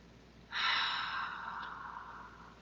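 One deep breath drawn in through the nose during a qigong practice session, a single breathy rush that swells quickly and then slowly fades, close and quiet with no talking.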